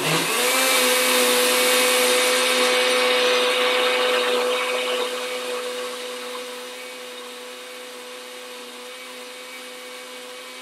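A blender making vegan cheese sauce whirs loudly with a high whine, then slows and winds down over several seconds into a quieter steady hum.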